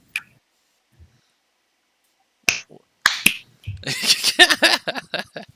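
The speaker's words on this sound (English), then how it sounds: "snap your fingers for me" Several crisp, close finger snaps ring out in a near-silent room, followed by a few more sharp clicks and a brief stretch of talk.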